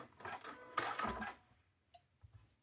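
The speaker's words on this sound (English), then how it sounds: "So let's get this stitched." A sewing machine stitching quilting fabric for a chicken block runs in one short, fast whirring burst of about a second, then stops, leaving near silence with a few faint handling clicks.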